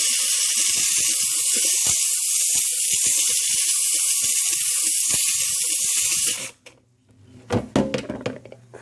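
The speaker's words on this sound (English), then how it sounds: "that's really blowing steam back up at me" A McCulloch MC1385 deluxe canister steam cleaner blows a loud, steady hiss of steam close by for about six seconds, then cuts off, leaving clattering handling noises and bumps.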